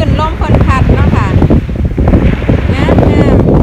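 Wind gusts across a white sandy beach, buffeting the microphone with a loud, continuous low rumble, while faint whistling tones rise and fall over it.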